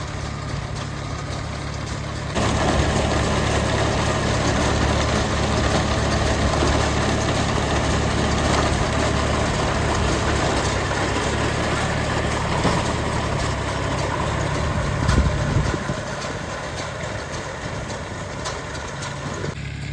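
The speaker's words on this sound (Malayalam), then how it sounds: "ട്രാക്ടർ ഉപയോഗിച്ച് അതിൻ്റെ മെഷീനറി സംവിധാനം ഉപയോഗിച്ചിട്ട് ഇങ്ങനെ വൈക്കോല് കെട്ടിയിട്ടുണ്ട്" A tractor engine drones steadily and loudly throughout, driving a straw baling machine in a harvested paddy field; a slightly heavier mechanical churn sets in after the first couple of seconds, no voices.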